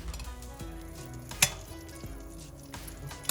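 Spices sautéing in a pan for a Filipino pesang isda fish stew made with smelt, a steady soft sizzle with occasional clinks of a utensil against the pan, quiet and close.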